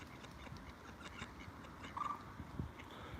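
Geese honking at a park pond on a Sunday morning walk, a few brief calls rising faintly over steady outdoor background noise.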